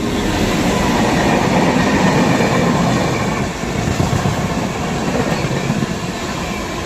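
Visakhapatnam–Amritsar Express train crossing at speed, a loud, steady rushing roar of passing coaches with rumbling wheel noise throughout, easing slightly midway but continuing to the end.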